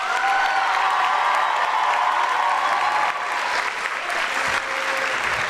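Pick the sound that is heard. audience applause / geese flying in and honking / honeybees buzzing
audience applause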